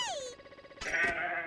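A goat in the video game Zanki Zero bleats twice: first a short wavering call that drops in pitch, then a louder, brighter bleat after a brief pause.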